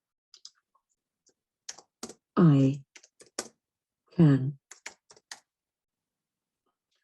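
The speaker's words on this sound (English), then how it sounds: "So if I type this on now and start typing" Keystrokes on a computer keyboard tap out in short sparse clusters while someone demonstrates a talk-as-you-type feature in j2create, and two bursts of synthesized speech read the typed text back.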